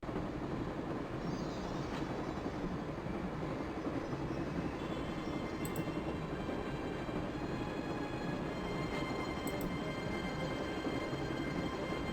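A train rolls along steadily in the Broken Sword video game, a constant wide rumble and clatter with faint high metallic tones and a couple of brief squeaks.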